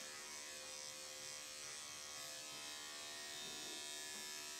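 An electric dog grooming clipper hums steadily and fairly quietly throughout while grooming a Shih Tzu, a constant buzzing motor drone with no speech over it.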